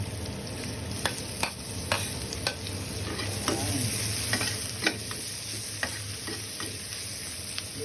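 Garlic sautéing with onion in a pan, a continuous sizzle punctuated by regular sharp spatula knocks and scrapes against the pan, roughly one every half second, close and alone without speech.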